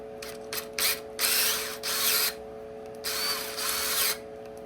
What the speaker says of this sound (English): And then I have a 3/8" drill bit, and I taped off the length of the cone wedge.